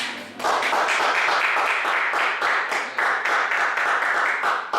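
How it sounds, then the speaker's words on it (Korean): A room full of people at a public speaking class breaks into loud, sustained applause, dense rhythmic clapping that continues steadily without talk. "박수 한번 보내주시죠."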